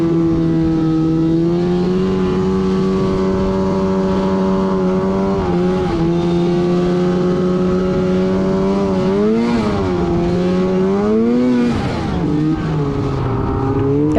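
A snowmobile engine drones loud and close while riding a wooded trail in northern Michigan, its pitch holding steady and then rising and dipping as the machine revs through the snow.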